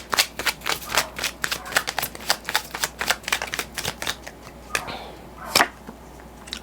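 Tarot cards are shuffled in quick, crisp riffling bursts, close and fairly loud, with a rapid irregular rhythm that slows and thins out near the end.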